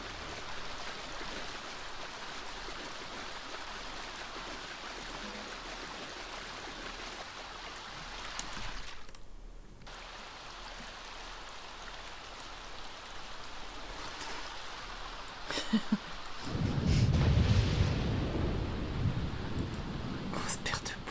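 Soft, steady rain patters as ambient weather in The Sims 4, faint and continuous in the background, swelling briefly near the end under quiet talk.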